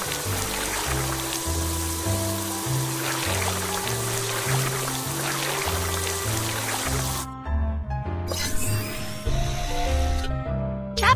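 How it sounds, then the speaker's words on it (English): In a video game, a water sprayer rinsing mud off a car hisses steadily over a bouncy game melody, with a brief break before the spraying resumes. "drag the water sprayer to rinse off the mud."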